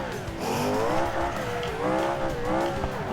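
An ETK 1300 drift car in a driving game runs with a steady engine drone that rises and falls in wavering revs, tires hissing and squealing faintly as it slides, moderately close with no talk.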